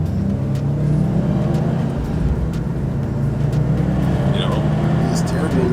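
A 2021 Subaru WRX STI's turbocharged boxer engine revs under light throttle, giving a loud, steady, close engine drone that builds slightly while a person talks over it.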